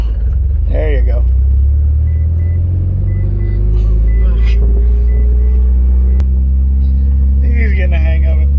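A manual Mitsubishi Evo pulling away as the clutch is eased out, a loud steady low engine rumble rising slightly in pitch, with people talking over it.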